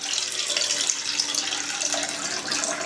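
Cooled boiled water is poured into sausage mince, making a continuous close hissing splash of running liquid for a few seconds, with no talk.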